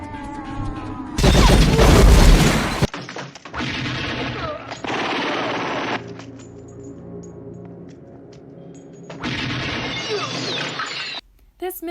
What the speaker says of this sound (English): the scene where the titular protagonist shoots the slave owner, Miss Laura